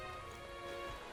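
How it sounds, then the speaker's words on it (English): Rain falling in the fantasy video game Metaphor: ReFantazio, a faint, steady hiss of rainfall with no breaks, quiet and even throughout. "This bloody rain was so wonderful."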